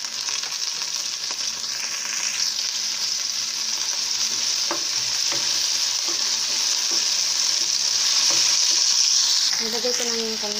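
Water spinach (kangkong) stir-frying in a pan with soy sauce, a loud steady sizzle and hiss throughout with occasional clinks of stirring.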